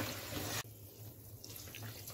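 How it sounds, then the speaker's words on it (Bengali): Warm water pours steadily into a cooking pot, a close rushing splash that cuts off abruptly, followed by a faint trickle with no voices. "একটু নাড়াচাড়া করে নিয়ে আমি বাকি জলটা অ্যাড করছি।"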